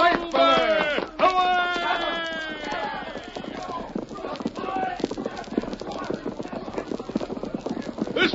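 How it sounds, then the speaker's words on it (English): Horses gallop with steady, rapid clip-clop of hooves in an old Western radio drama, loud and close, while a horse whinnies at the start and voices speak over the hoofbeats. "Get on your horse, Tonto"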